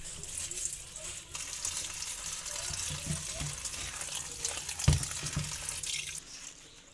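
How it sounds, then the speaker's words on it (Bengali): Giant taro (mankochu) leaves are rinsed under running water, a steady hiss of flow broken by splashing, rustling and a few sharper knocks as the leaves are handled. "কচুর পাতাটা আমি ধুয়ে নিচ্ছি।"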